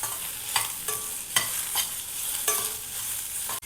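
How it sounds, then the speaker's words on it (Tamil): Sliced onions sauté in a pan with a steady, close sizzle, broken by several sharp scraping stirs of a spatula at irregular intervals, ending in a sudden clack; no one speaks. "ஆனியனை ஸ்லைஸாக கட் பண்ணி அதையும் போட்டு வதக்கிக்கலாம்."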